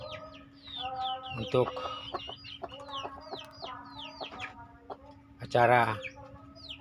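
Young roosters selected for a customer's order, clucking and chirping in quick repeated calls close by, with someone talking in short bursts over them.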